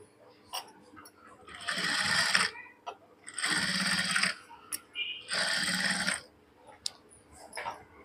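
A sewing machine stitches the neckline of a heart-pattern blouse in three steady bursts of about a second each, close and fairly loud, separated by brief pauses filled with handling noise and soft clicks.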